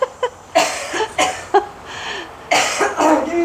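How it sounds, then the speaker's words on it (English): Someone coughs repeatedly and loudly up close, a run of harsh bursts with a throat-clearing sound near the end. "coughing so much we can't film"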